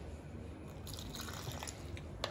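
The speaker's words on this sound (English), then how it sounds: "Then add some water" Water is poured into roti canai dough in a mixing bowl, a soft trickle and a few wet drips, faint, close and brief, with no one talking.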